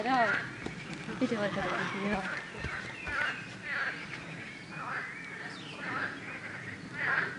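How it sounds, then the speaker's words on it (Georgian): Birds chirp and call repeatedly against a busy outdoor background at Lake Bateti, Georgia, their bright notes rising and falling every second or so. "საოცარი სიმშვიდე, ჩიტების ჭიკჭიკი"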